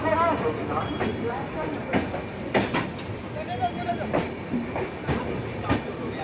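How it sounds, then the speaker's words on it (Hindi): The 12285 Secunderabad–Hazrat Nizamuddin Duronto Express pulls into Hazrat Nizamuddin station in light rain, its wheels clacking rhythmically over rail joints with occasional squeals while people talk nearby. "यहाँ अपना अराइवल हो रहा है हज़रत निज़ामुद्दीन रेलवे स्टेशन पर"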